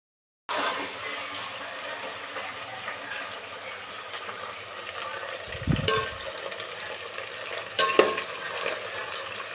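Onion, chilli, potato and carrot fry in a pan with a steady broadband sizzle, broken by a brief stirring scrape in the middle and a few clinks near the end; no voices.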